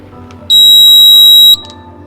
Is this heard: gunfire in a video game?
no